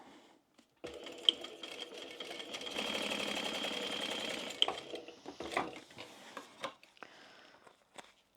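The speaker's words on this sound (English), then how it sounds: "And now we're going to stitch down that side." A sewing machine stitches down the side of a tote bag in one steady run of several seconds, then slows into a few short bursts. It is close and moderately quiet, with no voices.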